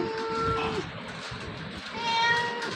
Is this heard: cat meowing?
yes